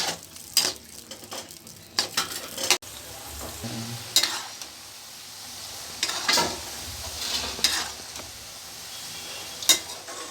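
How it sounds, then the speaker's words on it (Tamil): Garlic frying in oil with a soft continuous sizzle, broken by repeated scraping stirs and clinks of a utensil against the pan, close and fairly quiet. "எண்ணெயில் நல்லா வெள்ளைப்பூடு வெந்துக்கிட்டுருக்கு"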